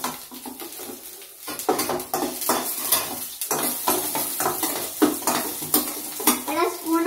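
Chopped onion frying with curry in a pan, stirred vigorously with a utensil, producing a loud close sizzle broken by repeated scraping and clattering strokes against the pan.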